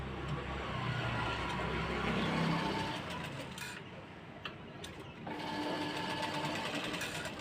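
A sewing machine stitches fabric for the front panel of a katori blouse, running steadily and fairly close with a dense mechanical whir, pausing briefly midway before resuming; no one speaks.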